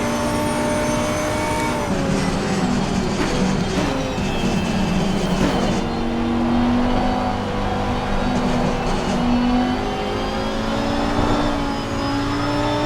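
A Porsche race car engine in Assetto Corsa Competizione drones steadily and loudly, its pitch rising and falling through gear changes as the car accelerates and slows around the track, with no talk.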